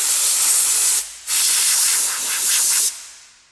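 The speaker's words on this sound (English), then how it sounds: "We'll just dry it off with a little bit of compressed air." Compressed air blasting to dry a cleaned engine part from a 2001 GMC Sonoma 2.2L engine: a loud, close hiss in two bursts separated by a short pause, then cutting off and trailing away.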